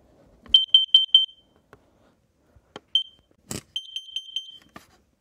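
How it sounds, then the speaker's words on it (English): A Kidde carbon monoxide alarm sounds, sharp, high electronic beeps in quick groups of four, with a short pause and a brief burst of noise between the groups. "Warning, carbon monoxide."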